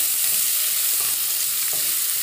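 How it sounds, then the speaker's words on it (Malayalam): Sliced carrots tossed with cooked beef in a hot pan, a loud continuous sizzle broken by scraping stirs of the spoon, close up and without voices. "ക്യാരറ്റ് ചേർത്ത് കൊടുത്തിട്ടുണ്ട് ഇതൊന്ന് ഇളക്കി യോജിപ്പിക്കാം"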